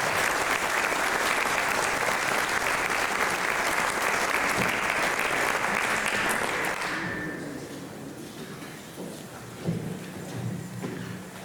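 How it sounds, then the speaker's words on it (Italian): An audience at an Alpini remembrance concert in Buja gives loud, sustained applause for a brass fanfare and two bands playing together. The clapping stays full for about seven seconds, then thins and fades to scattered claps. "grazie ancora dei vostri applausi, e un altro per la fanfara e le due bande insieme"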